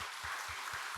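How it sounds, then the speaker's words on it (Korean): A congregation at a Korean autumn special dawn prayer service in church gives a short, soft round of applause, faint and fairly even, with some lower rhythmic thumps beneath it. "박수 한번 하겠습니다."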